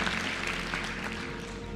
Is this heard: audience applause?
yes